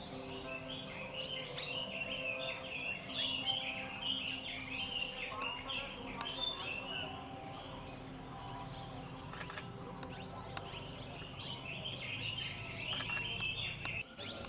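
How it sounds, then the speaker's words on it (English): A blue-throated barbet gives repeated rhythmic calls in the distance, sounding through a quiet outdoor background with a few faint clicks, at Sattal. "a blue-throated barbet came to the hide"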